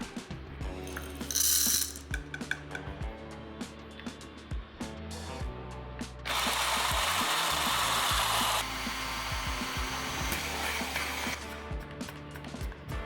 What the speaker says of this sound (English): Take this coffee, put it in the grinder.